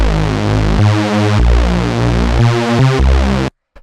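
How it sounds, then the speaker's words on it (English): Fat, detuned unison saw-wave synth bass plays dry and unprocessed, loud, buzzy notes changing in a steady rhythmic pattern before cutting off abruptly near the end. "you get this really fat bass"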